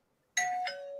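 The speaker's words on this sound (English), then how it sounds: "Where did she get a doorbell from? On her phone." A two-tone ding-dong doorbell chime plays from a phone's speaker, clear and close, sounding once and ringing on briefly in an otherwise quiet room.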